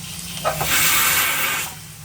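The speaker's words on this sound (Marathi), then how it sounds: "कुकर तिकडे शिट्टी मारतोय" A pressure cooker in a home kitchen releasing a loud, close steam hiss that swells after a brief clink and holds for about a second before fading.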